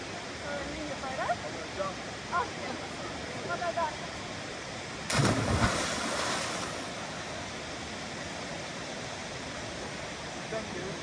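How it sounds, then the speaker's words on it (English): Waterfall at Manning Gorge, a steady broadband rush of falling water heard throughout, with a louder surge midway and faint voices in the background. "The waterfall's going"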